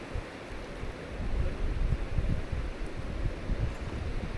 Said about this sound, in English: Do feel a little wind going here